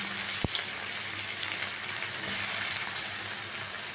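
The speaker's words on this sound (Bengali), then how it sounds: "চিনিটা ফুটে এলে এর মধ্যে আমি দিয়ে দেবো পেঁয়াজ কুচি" Chopped onions sizzle in mustard oil with boiling sugar, giving a steady close-up frying hiss with a single sharp clatter near the start.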